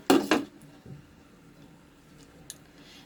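A lid clanks down onto a cooking pot of saag chicken over a medium flame, one short metallic clatter up close followed by a faint tap and quiet kitchen ambience.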